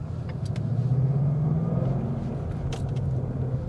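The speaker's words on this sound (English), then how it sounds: "As you can hear, my car is far too quiet." A car engine hums low and steady while driving, a soft continuous rumble with faint road noise and no voices.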